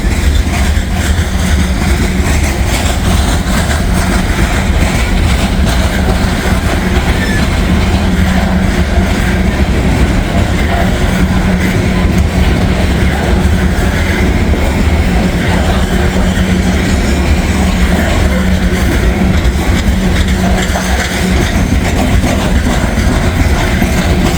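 A short coal train rolls past a grade crossing at close range, a loud, steady rumble of wagons and engine noise running unbroken from start to finish with no talk over it.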